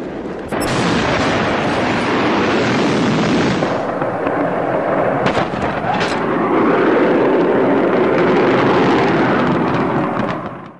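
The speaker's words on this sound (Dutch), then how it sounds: "U ziet de beelden nu vertraagd en heel duidelijk is te zien wat de werkelijke krachten van de laatste explosie was." A powerful explosion tears roof tiles off houses, a loud sustained rumbling blast with crackling debris that rolls on for several seconds before fading, no voices.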